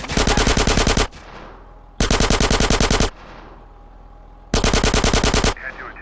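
Three loud, close bursts of rapid machine gun fire in GTA San Andreas, each lasting about a second, separated by short pauses with lingering echo.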